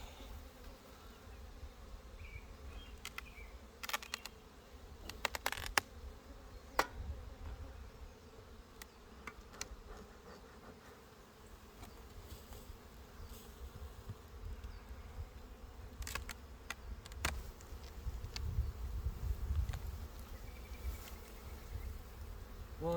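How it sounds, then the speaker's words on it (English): Dense, continuous buzzing of many honey bees in an opened hive, low and steady throughout, with occasional brief clicks and knocks close by. "Look at all those bees."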